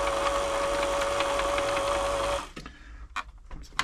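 A Singer 6104 sewing machine running with a steady, even mechanical whir for over two seconds, then stopping, followed by a few clicks and handling knocks.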